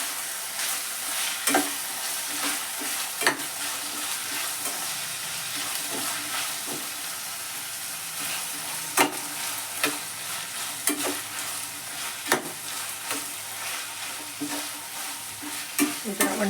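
Onions fry in a pan for an avarekalu (field bean) vegetable kurma, sizzling steadily while a spoon stirs them with repeated scraping clacks, all close up and without talk.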